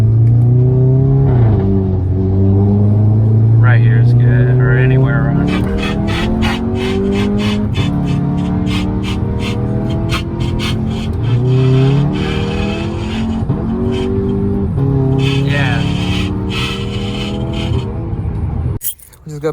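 A 500hp MK5 Toyota Supra accelerates hard on a test ride, its loud engine climbing through gears in repeated rising sweeps with sharp shift cracks, heard from inside the car.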